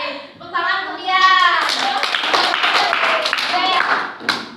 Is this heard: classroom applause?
yes